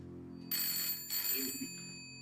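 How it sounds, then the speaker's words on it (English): A telephone bell rings in two bright bursts separated by a short pause, loud and close, with a low hum underneath and no one speaking. "The phone ring."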